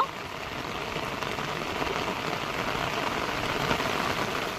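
Heavy monsoon rain pours steadily in a forest setting by the Marichjhapi jungle, a dense, continuous hiss of drops drumming on surfaces with no break, loud and close throughout.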